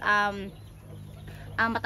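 A rooster close by gives two loud, harmonic clucking calls, one at the start and one at the end, with a quieter low murmur between them.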